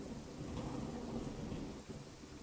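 Thunder from a lightning storm in the video game What Remains of Edith Finch rolls as a steady, deep rumble over a constant hiss of rain, fairly quiet and unbroken throughout.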